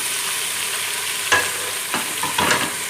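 Minced meat frying in a pan with browned onions and whole spices, a steady sizzle broken by a few scraping stirs of a spoon, close and moderately loud with no voices.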